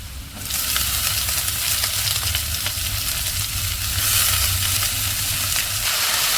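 Spring onion and green chili stir-frying with onions in a hot pan, a loud, steady, close sizzle that swells in right after a brief quiet start and hisses on without a break.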